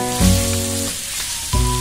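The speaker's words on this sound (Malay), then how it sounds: "Kita nak bagi udang ni betul-betul masak bersama dengan rempah-rempah yang kita dah tumis tadi lah." Prawns frying in curry spices in a pan, a steady hissing sizzle with two louder bursts of crackling near the start and end, close and continuous with no talking.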